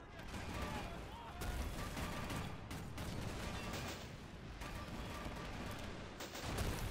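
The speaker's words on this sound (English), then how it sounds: "Oh god, Bofors firing away." A Bofors gun fires away in Men of War Assault Squad 2 amid a thick, continuous battle roar of rapid shots and explosions. A voice talks faintly beneath the steady barrage.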